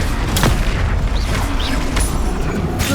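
A blasting spell explodes in the Hogwarts Legacy game, a heavy booming roar that fills the whole stretch, with sharp cracks and whooshing spell effects layered over the rumble.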